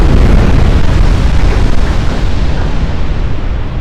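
Super battleships trade heavy shellfire in the naval warfare game Ultimate Admiral Dreadnoughts, a loud, continuous rumbling roar of overlapping explosions and booms with no pauses, dense and close throughout.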